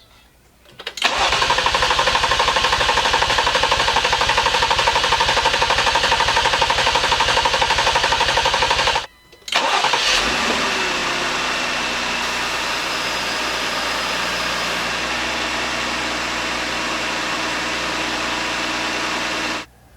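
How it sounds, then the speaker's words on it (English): A 2018 Jeep Grand Cherokee with the Pentastar 3.6L V6 cranks loudly and rhythmically for about eight seconds, goes quiet briefly, then fires and settles into a steady idle before shutting off. "Then once that's done, we can go ahead and fire up the engine."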